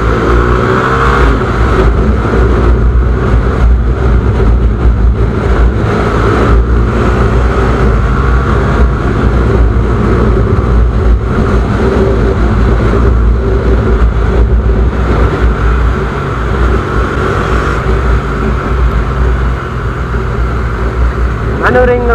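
A 2017 Mahindra Mojo BS IV motorcycle accelerating on a city road, its engine loud and close with a continuous rising drone and strong rushing wind noise that lasts the whole stretch.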